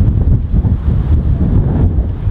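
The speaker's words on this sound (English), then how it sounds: "Into the wind. Into the breeze." Wind blowing across a golf course on a par 4 hole, buffeting the microphone with loud continuous low rumbling gusts and no clear voices.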